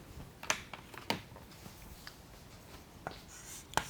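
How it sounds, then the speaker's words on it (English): Chalk or marker strokes on a board while setting up a circle geometry proof, several short scratchy strokes and taps spaced across the moment, close but quiet, without talk. "We always first write here"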